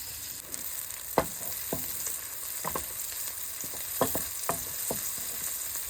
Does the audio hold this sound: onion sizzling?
yes